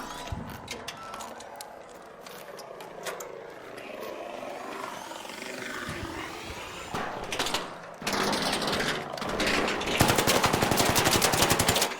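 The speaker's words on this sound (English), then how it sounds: "The gun I'm rocking is very good against humans, not so good against the ARC" Rapid automatic gunfire from a player's weapon in the shooter game Arc Raiders, bursts of sharp shots rattling off repeatedly, growing louder and denser toward the end amid other in-game noise.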